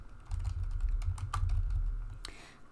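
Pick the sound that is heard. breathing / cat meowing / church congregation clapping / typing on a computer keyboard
typing on a computer keyboard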